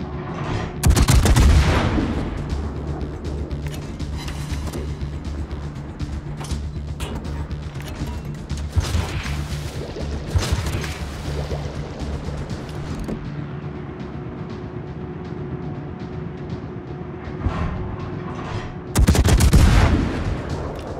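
Naval guns of the Italian cruiser Genova firing at an enemy warship in a battle video game: loud booming salvos at the start and near the end, with rumbling shell blasts and mechanical clatter in between, dense and continuous.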